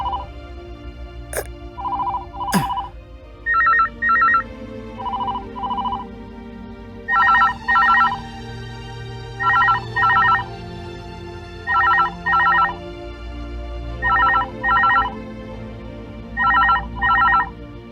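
A telephone rings with a repeating electronic tone in paired beeps at a steady rhythm, preceded by two brief sharp whooshes over a low background hum.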